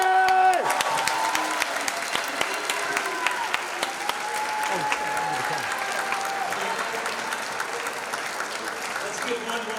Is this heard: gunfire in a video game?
no